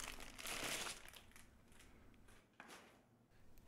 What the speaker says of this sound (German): Ich packe das mal, das Multimeter hier aus der Tüte aus.